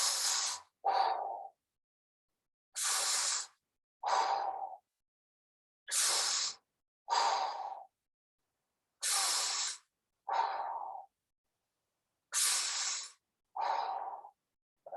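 A person doing a relaxation exercise takes slow, deep breaths close to the mic, with each airy inhale followed by a longer exhale in a regular rhythm and quiet gaps between them.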